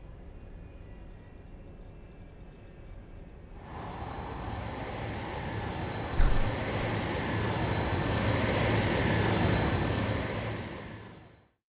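A Metal Gear video game aircraft engine drones steadily, then swells into a louder, brighter roar with a brief thump midway, holding as a sustained close whine before cutting out at the end.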